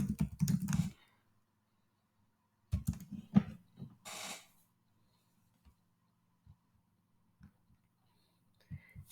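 Bursts of typing on a computer keyboard, quick clicky keystrokes clustered in two short runs near the start, then sparse isolated taps trailing off into near silence, close and moderately quiet.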